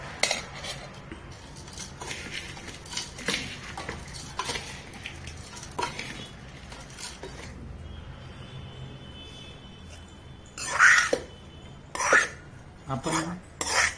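A spoon scrapes and clinks against a bowl while matki bhel ingredients are mixed, a series of short metallic taps and rustling scrapes, with a few louder clatters near the end and no speech.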